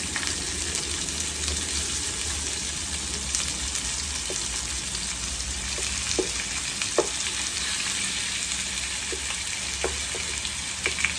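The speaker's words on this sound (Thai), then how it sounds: "ผมก็จะใส่หมูลงไปผัดนะ" Sliced pork stir-fried in a pan, with a continuous hiss of frying fat and occasional light scrapes and taps of the spatula, close and even throughout.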